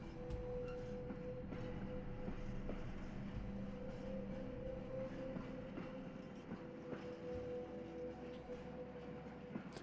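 Train rolling on rails in the video game The Derailed, a steady low rumble with a sustained hum and rhythmic clickety-clack of wheels over joints, quiet ambient and without talk.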